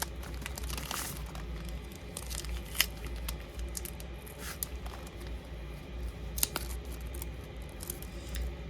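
A nylon loop surgical suture package is torn and crinkled open, with several sharp tearing and crackling sounds over a quiet room background.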